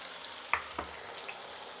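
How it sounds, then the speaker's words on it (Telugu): Field beans frying in oil, stirred in a few quick passes: two soft scraping clicks of a spoon over a low, steady oil sizzle, with a faint tap near the end. "ఇప్పుడు వేసినాక ఒకసారి ఇలా కలుపుకోవాలి"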